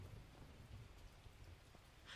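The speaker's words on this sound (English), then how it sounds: "realized it's raining on the game" Rain in the Outbreak video game falls as a steady, even hiss of drops for the whole stretch, with a faint low rumble beneath and no voices.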